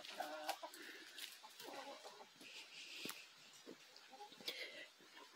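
Chickens on a Brazilian ranch clucking in short scattered bursts, close and moderately quiet, with people talking among them.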